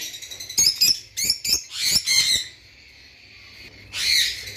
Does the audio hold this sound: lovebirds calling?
yes